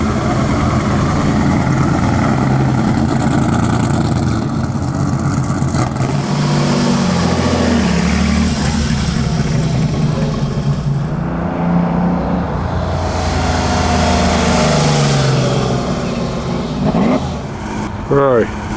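A 1935 Fiat Balilla vintage car at the Mille Miglia, its engine idling and revving loudly and close up, with a steady low rumble under voices talking throughout.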